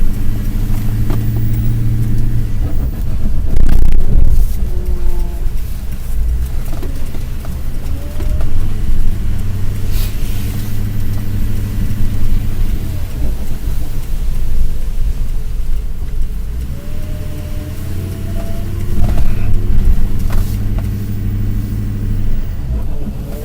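A failing truck engine rumbles loudly with low, uneven droning and periodic surges of revving, heard close and continuously, with no talk.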